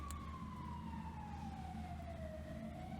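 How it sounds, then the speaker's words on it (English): A wailing ambulance siren in the horror video game Cold Front sweeps slowly downward in pitch over a steady low rumble, continuous and fairly prominent for the whole stretch. "Is that siren? An ambulance, huh?"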